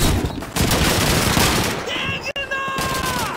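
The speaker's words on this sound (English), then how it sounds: "Sergeant Davis, get on the German machine gun!" German machine gun fire in Call of Duty 2 on a World War II battlefield, a dense sustained fusillade of rapid shots close by, with a brief dip midway and shouted voices over it.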